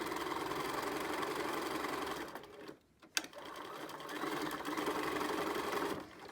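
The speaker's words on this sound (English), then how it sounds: "And I'm going to sew down at 1/4 inch." Sewing machine stitching a fabric face mask at a quarter-inch seam, running in a steady, close buzzing hum that pauses briefly midway and then resumes.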